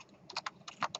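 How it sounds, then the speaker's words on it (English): Typing on a computer keyboard, a quick cluster of light, close key clicks in two short bursts, quiet and without talk. "I'm getting tired of typing this backslash n"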